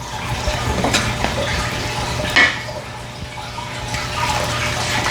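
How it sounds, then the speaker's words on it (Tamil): Water is poured slowly into a bowl of rice flour and urad flour while the puttu dough is mixed, giving a soft trickle and splash with light clinks of utensils against the bowl. "இப்படி ஊற்றி மெதுவாக கொஞ்சம் தண்ணியாக ஊற்றி குழைக்கும்"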